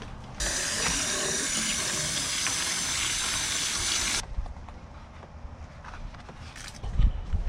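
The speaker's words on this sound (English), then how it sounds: "Put the water in here." Water pours into a container in a steady, loud rushing stream for about four seconds, then stops abruptly, leaving quieter handling clatter and a couple of bumps.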